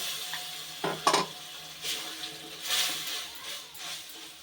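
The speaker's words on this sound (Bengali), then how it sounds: "এবার এই সব দিয়ে আরো একটু সময় খুব ভালোভাবে কষাবো" Tomato paste and spices sautéing in a pan for katla kalia, a quiet sizzle broken by a few sharp scrapes and clinks of a spatula stirring against the pan.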